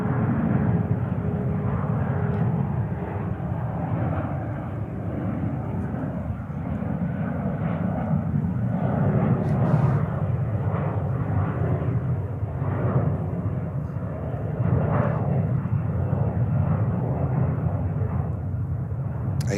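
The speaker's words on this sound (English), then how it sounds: "Oh, Lufthansa coming in." A Lufthansa Airbus A340-600 comes in to land at JFK, its jet engines producing a steady, loud, broad roar that lasts throughout without fading, heard from outside near the airport.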